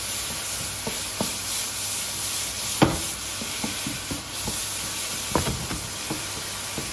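Squid sizzles steadily in a hot pan, a constant close hiss with occasional soft ticks and stirring knocks, no voices.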